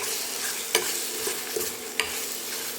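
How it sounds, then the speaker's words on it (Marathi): Potato and pea puree stirred in a steel kadhai, a steady soft bubbling sizzle with a few sharp scraping clinks of the spoon against the pan. "असं सारखं प्युरी अशी हलवीत राहायचं."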